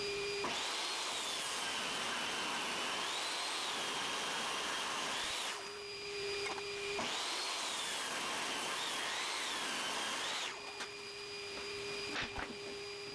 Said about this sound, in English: The longer board, I'm resawing it into two 1x4s.